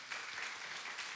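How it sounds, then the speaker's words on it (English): A quick round of applause for Moose Jaw students at an Orange Shirt Day gathering, steady broadband clapping that is faint and distant in the brief moment heard. "Come and give me a quick round of applause for Moose Jaw students"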